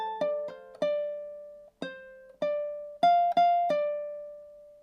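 Plucked ukulele notes from a song, a short run of about nine picked and slurred notes with pull-offs and hammer-ons, each ringing out and decaying, played clearly and alone with a pause midway.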